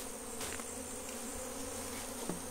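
A honey bee swarm buzzes inside a hive box, a dense continuous drone that stays close and even throughout, with a few faint knocks against the box.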